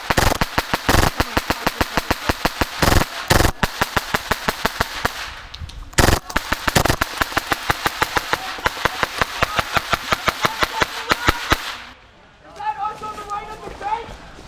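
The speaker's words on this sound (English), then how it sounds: "Someone's shooting back at us from the forest in there." Rapid bursts of gas blowback rifle fire during an airsoft milsim game in a forest setting, loud and close, with dense repeated cracks and brief pauses, talk in the background, ending in quieter rustling and voices.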